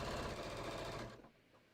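A sewing machine runs in a fast continuous rattle while stitching a patio cushion cover, loud and close, then cuts off near the end and leaves a quiet background.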